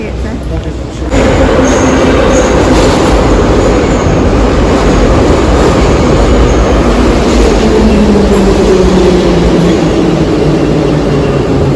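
A train rumbles through a station built above a small mall in Georgia, giving a loud, continuous roar with a gradually shifting whine, and faint voices mixed into the din.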